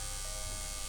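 Fuel injectors on a KA24DET engine in a Datsun 510 wagon buzz steadily as a MicroSquirt controller fires them, a constant close, bright electric drone with no break and no voices.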